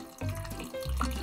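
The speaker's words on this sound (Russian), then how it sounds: "Ты что, водичку себе наливаешь?" Water streams from an office water cooler tap into a cup in a few short pours, close and moderately loud, with brief gaps between bursts.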